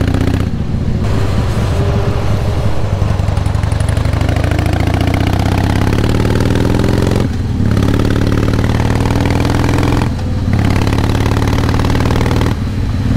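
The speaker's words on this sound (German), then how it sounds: "Dann können wir doch mal ein bisschen mehr Harley fahren." A Harley-Davidson Softail Classic motorcycle is ridden, its loud, close V-twin engine rumbling steadily and rising and falling in pitch as it speeds up, with several brief dips where the throttle eases off.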